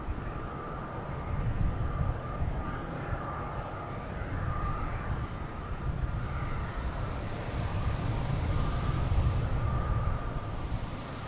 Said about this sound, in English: Next to arrive will be JetBlue coming in from Sarasota.